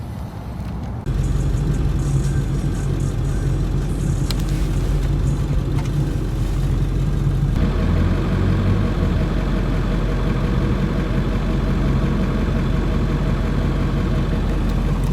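A Nissan 240SX with a swapped 1JZ engine runs at a steady idle after a brief quieter start, its low rumble constant and close throughout, with no talking.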